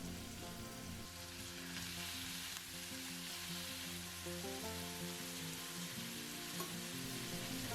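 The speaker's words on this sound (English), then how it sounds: "They are frying and smelling nice too." Chicken pieces and onions sizzle and crackle steadily in a hot pan, heard close up with no talking.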